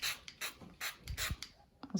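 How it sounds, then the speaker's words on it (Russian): A toy fan spray bottle from a Paw Patrol candy set being cranked and sprayed, with short bursts of hissing mist alternating with ratcheting plastic gear clicks, close and fairly loud. "Сейчас начнем брызгать."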